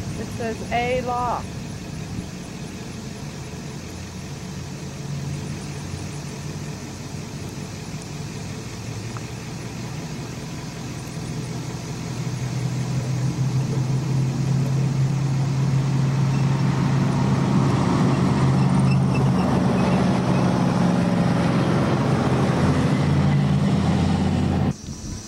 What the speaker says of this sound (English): This is an honorary parade lap after classes are finished to commemorate those challenge cars that came to Summit Point.